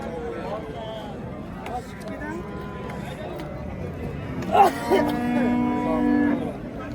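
A calf moos loudly at a busy cattle market, one drawn-out low call rising over crowd babble and talk, with fainter livestock sounds around it.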